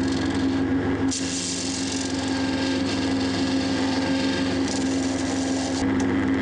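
A gouge cuts on a wood lathe, roughing down the three repaired rings of a segmented bowl's base: a steady, loud scraping whir over a constant motor hum, with brief shifts in pressure as the tool bites.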